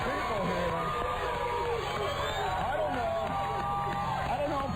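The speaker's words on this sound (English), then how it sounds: "We got a crowd of people here." A crowd of people gathers at a morning radio show broadcast in Sacramento, its dense, constant murmur and babble filling the background while someone talks over it.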